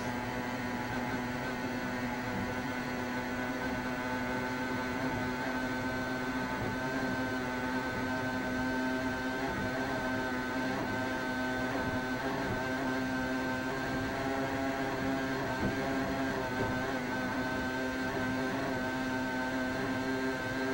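Racing powerboat engines at the start of a 2007 Key West World Championship race, recorded on board as a continuous loud, droning roar with a steady hum and no letup.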